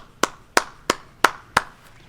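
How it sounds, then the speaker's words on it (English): At a fall undergraduate commencement ceremony, one person claps five times at a steady, even pace, each clap sharp, close and distinct, with a sixth faint one trailing at the end. "let's give them a round of applause"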